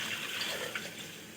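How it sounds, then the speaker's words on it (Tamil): Water pours steadily into a cooking pot while a vegetable curry is being made, a brief, faint, continuous splashing rush. "கொஞ்சம் தண்ணி ஊற்றிக்கலாம்."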